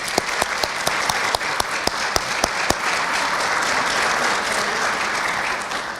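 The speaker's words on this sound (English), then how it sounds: "I want to give everybody a round of applause." Audience at a recognition tea giving a round of applause, sustained crowd clapping with a few sharp, close individual claps standing out near the start, then an even wash of hands.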